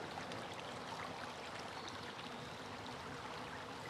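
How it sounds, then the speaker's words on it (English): Outdoor stream water flows steadily in a soft, continuous rush, with no voices. "Pause and listen to the water again."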